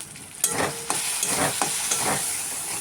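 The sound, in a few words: stirring spice paste in pan after adding salt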